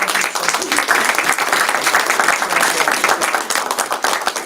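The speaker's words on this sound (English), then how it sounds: "let's have one more round of applause" An audience giving a round of applause at a regular monthly board meeting, sustained dense clapping at even loudness throughout, with a few faint voices mixed in.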